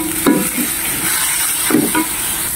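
Chicken with peanuts and dry chili stir-fries in a pan, with a constant loud sizzle and two scraping stirs of the spatula heard up close.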